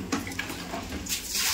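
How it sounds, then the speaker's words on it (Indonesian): Water splashes and pours as a tortoise enclosure is rinsed, a short stretch of steady splashing with brief surges, moderately close. "kita tinggal siram-siram aja"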